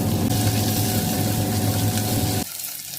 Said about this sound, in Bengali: লাল লাল করে পেঁয়াজ ভাজা হয়ে গেছে